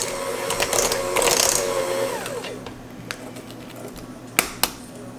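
An electric mixer runs on low, blending an egg into pound cake batter with a steady whirring motor hum, followed by a quieter stretch and a couple of sharp knocks near the end.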